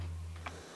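A single short, faint click comes from an airsoft HK G3 birdcage flash hider being unscrewed, heard over a low steady hum in a quiet room.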